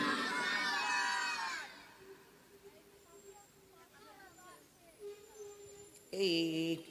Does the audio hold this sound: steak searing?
no